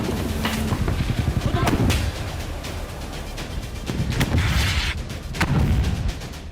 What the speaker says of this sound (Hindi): किबुत्ज के कफर अज़ा में ग्रेनेड लॉन्चर से हमास के लड़ाकों ने घरों पर बमबारी की।